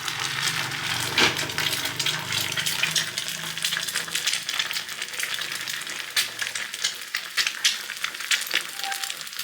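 Chilli and onion frying in hot mustard oil in a home kitchen, a steady dense sizzle with occasional stirring clinks and scrapes, close and fairly loud, no talking.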